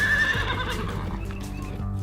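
A racehorse at a stable lets out a loud, close whinny that trembles and fades away, with faint hoof clops underneath.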